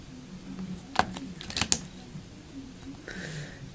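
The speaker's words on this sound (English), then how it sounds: "Make sure I'm not cutting with the wrong side of the blade there." A craft blade slicing through a polymer clay circle cane, giving a few short, sharp clicks and cuts close by, loudest in a quick cluster around the middle, with soft ambient room noise between them.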